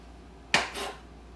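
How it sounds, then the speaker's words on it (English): A knife cuts through a piece of tough, woody wild reishi mushroom, giving a single sharp crunching snap and then a brief softer scrape as the blade finishes, heard close and alone. "I just finished slicing up my reishi mushrooms"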